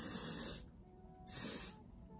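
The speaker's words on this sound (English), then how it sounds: "I like to hold my hair out like that and spray it so that it's more big and voluminous" Hairspray sprays onto hair in two short hissing bursts, close and fairly soft, with a brief pause between them.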